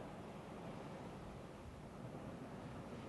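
Wind gusts outdoors buffet the microphone in a steady, broadband rush that fills the whole stretch, with no other sound standing out.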